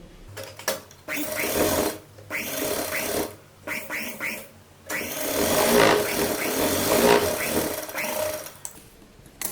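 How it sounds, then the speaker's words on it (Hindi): Sewing machine stitching a lining fabric onto a kurta neckline, running in several bursts of steady whirring with short pauses between them, close by and with no voices. "इसमें ये जो एक अस्तर का कपड़ा हमने लगाया है उसको रख कर और यहाँ पर सिलाई लगा लेंगे"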